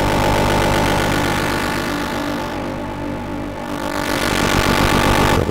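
A synth signal pushed hard through the Mangle passive Eurorack processor into heavy overdrive makes a dense, loud, buzzing distorted drone that dips slightly midway before surging back, with no talking.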